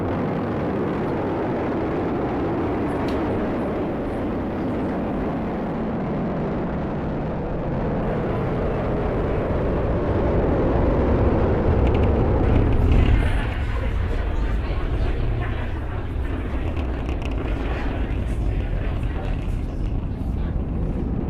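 SpaceX Falcon 9 carrying CREW-10 climbing after liftoff on 1.7 million pounds of thrust, a deep, continuous rumbling roar that swells and crackles before easing slightly, with a voice talking over it.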